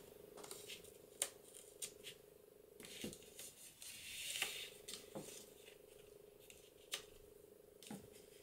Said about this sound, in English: So I'm going to cut those all off.